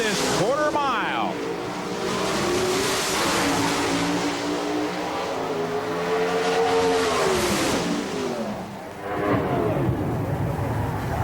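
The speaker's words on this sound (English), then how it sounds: "Inside Jeffreyon's car, let's take a ride through this quarter mile." Onboard drag racing car at the 1994 NHRA Oldsmobile Springnationals roaring down the quarter mile, a loud continuous engine note rising in pitch through gear changes across the whole run, with a commentator talking over it.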